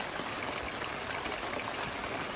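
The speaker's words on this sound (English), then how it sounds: "And the rain is washing my pot." Rain falls steadily onto a metal cooking pot outdoors after dinner, a dense continuous patter and hiss with no distinct individual drops, fairly close and without voices.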